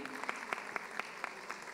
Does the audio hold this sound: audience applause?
yes